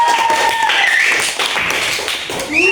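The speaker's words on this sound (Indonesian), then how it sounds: "nah tepuk tangan untuk semua." A classroom of students applauding together, a dense, steady patter of many hands clapping at close range for almost three seconds, with a few louder claps and some voices mixed in.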